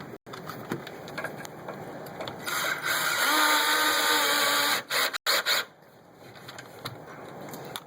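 A power drill driving screws into a front roller guard whines up in a few short bursts and one longer sustained run, with brief pauses and clicks between, close by.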